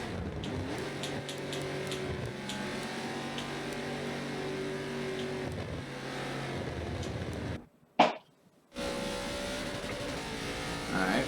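A race car in a racing video game at Silverstone slows into the pits, its engine droning steadily with gear shifts and a brief sharp whine near the end.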